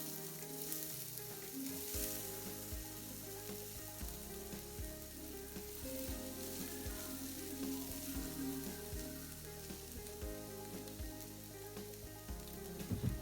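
Grated potatoes for hash browns fry in a pan over medium heat, a steady dense sizzle with occasional faint clicks of a utensil, close and continuous with no talking.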